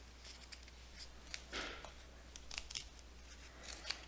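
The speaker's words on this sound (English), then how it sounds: "now I'm going to tear out the cardstock" Stiff cardstock is ripped out from beneath cut yarn while making pompom fringe, giving short, dry tearing rips in a few quick bursts, close and fairly quiet, with no talk.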